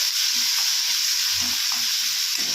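Tomatoes and ginger sizzle steadily in a frying pan, with a few soft stirring scrapes and clinks of a spoon across the pan over a constant bright hiss.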